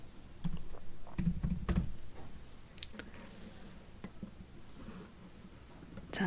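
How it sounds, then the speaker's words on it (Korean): Quiet clicking keystrokes on a computer keyboard come in short bursts with pauses between them, close and faint, and no voice is heard. "지우기 입력해 볼게요."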